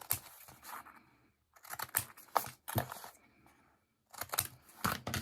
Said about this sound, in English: You can go ahead now, cut those corners.